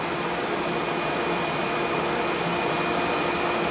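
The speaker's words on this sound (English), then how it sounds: "We're going to grind." A knife-sharpening grinder runs steadily for the whole stretch, a loud, even broadband whir with a faint high whine and no talk over it.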